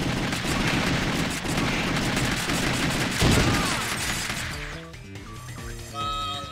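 Rapid gunfire in The House of the Dead 2 arcade shooter, a dense continuous barrage of loud shots and crashes that ends abruptly, followed by a short musical game jingle.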